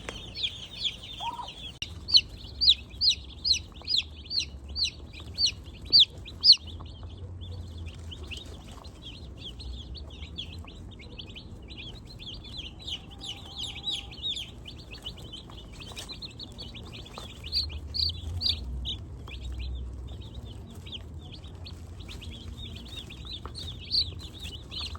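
Young meat-bird chicks cheep in a brooder, a quick run of loud peeps early on, then softer, scattered cheeping over a low steady hum.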